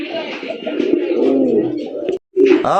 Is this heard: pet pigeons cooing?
yes